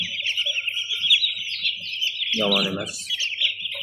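Chicks in a poultry house keep up a continuous chorus of high, rapid peeping close by, while someone speaks briefly partway through.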